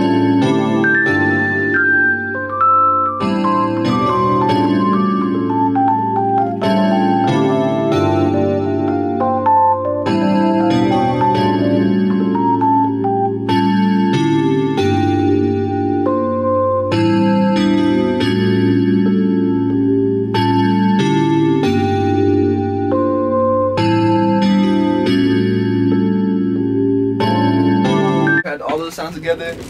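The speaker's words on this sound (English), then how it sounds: "I layered the chords with another sound, but it's the same chords. I just layered it with a bell of it" Looping beat chords layered with a bright bell sound, repeating in steady phrases over a sustained low bass for about half a minute, loud and even with no talking.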